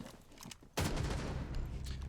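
Gunfire in a Rainbow Six Siege match: a sudden loud burst of shots breaks in after a quieter moment, followed by rapid continued firing and rumbling echoes.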